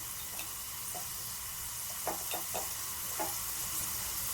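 Garlic, curry leaves and dried chillies frying in hot oil for a gooseberry pickle give a soft, steady sizzle, broken by a few faint clicks and stirring taps, with no talking.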